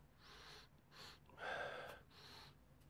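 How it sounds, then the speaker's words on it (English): Several short, faint, close sniffs at the air filter of a Yamaha XJR 1300 motorcycle during carburettor work, soft breathy puffs spaced across a quiet moment with no talking. "just gonna give it a sniff"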